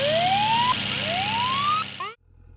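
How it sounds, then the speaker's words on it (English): A store alarm sounds in a cartoon as a loud, close siren tone sweeping upward twice, then breaking into short rising chirps before cutting off abruptly. "It was the alarm in the store."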